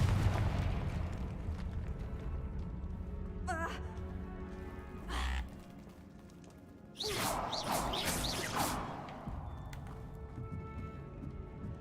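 A Confringo fire spell bursts in Hogwarts Legacy gameplay, with several loud broadband blasts and crashes amid game ambience, the biggest explosion arriving near the middle and rumbling on, with a brief voice-like gasp before it.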